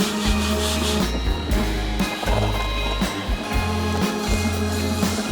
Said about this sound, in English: We just gotta sand it.